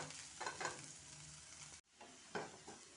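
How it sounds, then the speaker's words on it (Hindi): Onion and garlic stir-fried in a pan for stuffed pointed gourd, a steady broadband sizzle with spatula scrapes, briefly cut off, then resuming with more stirring strokes. "अब इसे हम अच्छे से भून लेते हैं"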